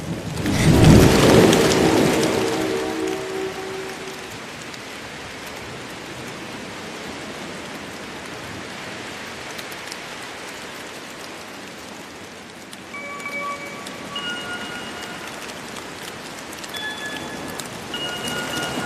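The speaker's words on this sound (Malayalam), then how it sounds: "നല്ല മഴയാ." Heavy rain pours steadily in a film scene, opening with a loud, deep roll of thunder over the first couple of seconds before settling into a continuous hiss of rain with no talking.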